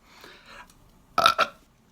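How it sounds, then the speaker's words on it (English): A loud, close belch in two quick bursts follows a moment of quieter murmuring, then it goes silent. "It's been a while since I've let out like a really big belch on the air."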